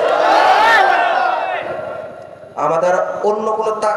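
Large crowd shouting a takbir chant in unison in reply to a preacher, a loud massed roar of voices that swells, fades, then returns as a second strong collective shout.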